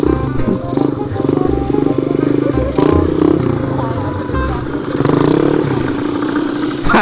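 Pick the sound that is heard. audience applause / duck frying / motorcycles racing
motorcycles racing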